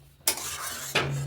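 Prawn kalia with a spoonful of ghee is stirred in a pan: two quick scraping strokes over a soft, steady sizzle, close and fairly loud.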